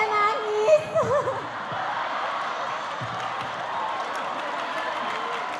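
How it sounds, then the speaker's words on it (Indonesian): A large student crowd at Universitas Islam Indonesia, about 5000 strong, claps in steady applause for Anies. A brief voice is heard at the start before the even, distant-sounding clapping settles in. "Tepuk tangan dulu, Masya Allah"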